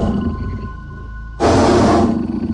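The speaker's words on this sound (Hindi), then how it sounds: "ये सुनकर शेर कौवे को भगाने के लिए दहाड़ता है" A cartoon lion lets out a sudden loud roar to chase away a crow, a short, powerful burst that cuts in after a quieter tonal stretch and fades quickly.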